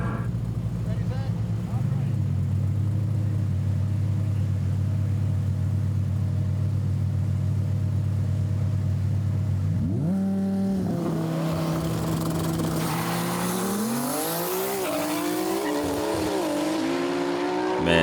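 A 1600-horsepower Audi R8 and a 1600-horsepower Nissan GT-R launching in a drag race: a steady loud engine drone builds, then engines rev hard and climb through gears with tire noise, heard from a distance.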